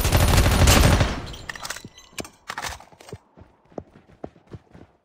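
In a battle royale video game, a dense loud burst of gunfire opens the clip, then rapid single shots and clatter carry on at a lower level. No one speaks.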